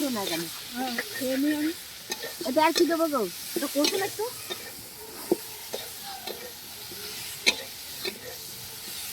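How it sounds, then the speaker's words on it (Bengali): Mixed vegetables for a cabbage curry sizzle and crackle in a pan while being stirred and scraped, a steady frying hiss running underneath as people talk nearby in the kitchen. "এই যে দেখো বাঁধাকপি দিয়ে তরকারিটা হবে বলে এখানে সবজি ভাজা হচ্ছে।"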